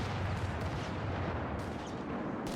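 Grenade explosions in the strategy game Company of Heroes 3 crackle through a dense wash of distant battle noise, with a few sharper bursts over a steady low rumble of gunfire and artillery, no voices.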